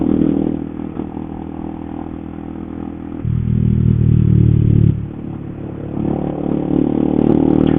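A Honda CBR 150R K45N motorcycle engine pulls hard from low to mid revs while riding, a loud steady drone that swells for a sustained stretch midway and then builds again near the end.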